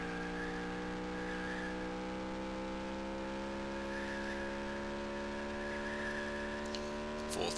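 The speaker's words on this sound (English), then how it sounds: "Full throttle, a little bit of brake here, coast, start getting on the gas a little bit, full throttle again." A race truck engine from the NASCAR Racing 1999 video game in the Craftsman Truck Series holds a steady, droning high-rev tone at full throttle, loud and continuous with a faint tire squeal near the end.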